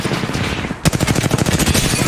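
Rapid automatic gunfire in the battle royale game Apex Legends erupts suddenly after a brief lull, a loud, sustained burst of closely spaced shots that rattles on steadily to the end.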